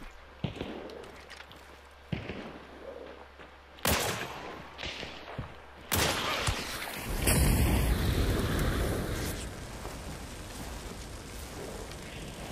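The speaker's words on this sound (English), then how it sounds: "He's using a Cobalt rifle and Dum Dum ammo." Gunfire from a Cobalt rifle loaded with Dum Dum ammo in a video game, several sharp distant shots spaced a second or two apart, then a louder volley over wind-like rushing noise.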